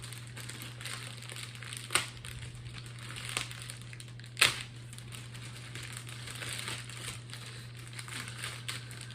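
A book package is ripped open, heard as soft steady crinkling of packaging with a few sharper tearing crackles, close and fairly quiet, under a faint background hum and without talking.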